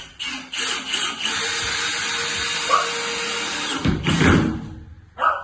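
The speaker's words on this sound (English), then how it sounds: "Electric screwdrivers really are much quicker." An electric screwdriver drives screws into self-build flooring with a sustained loud whirring motor run of a few seconds, ending in a lower grinding burst as the screw seats, then a brief final whir.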